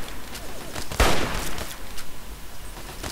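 Gunfire in the video game Fallout 3, heard as a dense burst of rapid shots with one loud crack near the middle and sparser pops after it, set against a continuous noisy background.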